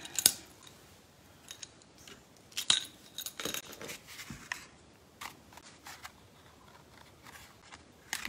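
Small ribbon scissors snip sharply several times, close and crisp, with light clinks and handling noises of craft tools between cuts during gift bow making.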